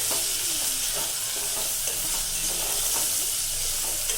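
Chopped tomatoes being stirred into a frying egg biryani masala, a dense continuous sizzle with soft scraping strokes of a spoon, close and loud, with no voices.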